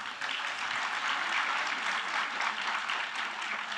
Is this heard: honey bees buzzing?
no